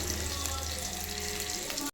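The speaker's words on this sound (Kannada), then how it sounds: "ಇದನ್ನ ಫ್ರೈ ಮಾಡ್ಕೊಳ್ಳೋಣ" Ingredients for moong dal rasam frying in a pan make a dense, even hiss close up that holds steady for the whole short stretch, with no talking.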